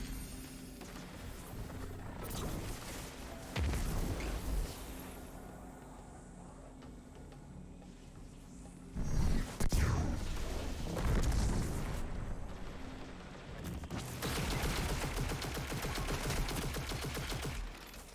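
Enemy gunfire crackles in a Destiny 2 Grandmaster Nightfall in the Devil's Lair, with bursts of rapid shots and booming impacts rising and falling over a continuous game soundscape.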